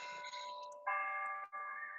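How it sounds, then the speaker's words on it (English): A campus bell sounds as a run of electronic chime tones, one held pitch followed by two higher tones, fairly faint and steady with no talk over it. "Oh, there's the bell."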